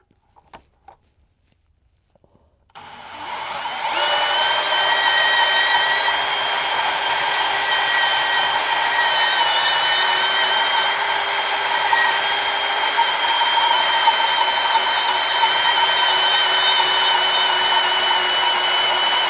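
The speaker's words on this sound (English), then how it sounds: "I'm just going to use the old trusty bandsaw." After a few quiet seconds of handling noise, a bandsaw starts and runs with a loud, steady whine as it cuts through a metal gas-tank part clamped in a vise, continuing evenly to the end without talk.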